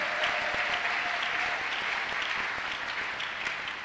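A church congregation claps together in a sustained, even round of applause with crisp individual hand strikes standing out, heard fairly close and without anyone speaking over it.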